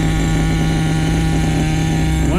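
A small HPI 4.6 nitro engine on a radio-controlled car runs at a steady high buzzing idle, loud and close, its pitch dipping slightly right at the end.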